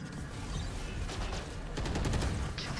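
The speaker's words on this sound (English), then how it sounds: "Swarm grenade out." Rapid crackling bursts from a swarm grenade going off in a tactical shooter video game, a dense run of sharp pops layered over a busy gunfire-like din.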